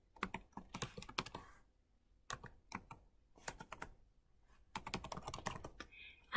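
A password is typed on a computer keyboard, heard as quiet, close key clicks in quick bursts separated by short pauses.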